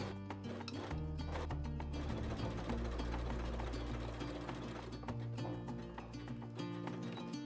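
A sewing machine stitches a ruffle onto children's leggings, running in a steady, close, loud mechanical whir with rapid needle clatter for several seconds, then briefly slowing and picking up again.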